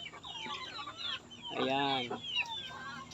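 Young pullet chickens cluck and chatter close by while eating azolla, soft overlapping calls with one louder drawn-out squawk in the middle, and someone speaks briefly.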